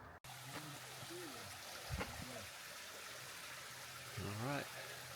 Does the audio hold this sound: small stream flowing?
yes